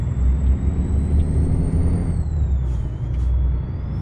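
In Euro Truck Simulator 2, a Freightliner Classic XL rumbles loudly and steadily as its jake brake engages, with a low, rapid engine-brake drone and a gear whine that drifts down partway through.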